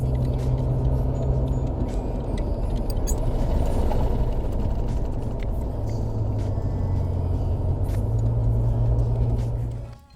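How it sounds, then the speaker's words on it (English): A car braking with its steering wheel shaking violently, heard as a loud continuous rumbling drone from inside the cabin with a rattling, juddering mechanical texture that cuts off near the end. "my steering wheel was shaking violently whenever I was braking"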